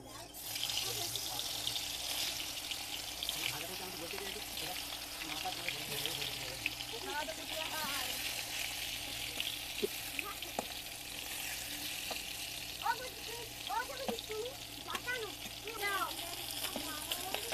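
Fish sizzles steadily in hot oil in a pan in a home kitchen, with a continuous crackling hiss throughout and faint voices in the background.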